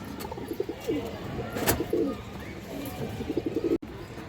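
Pigeons coo in bursts near a restless female pigeon for sale among silver and other fancy breeds, low throaty calls repeating over background murmur and shuffling, with a brief sharp dropout near the end.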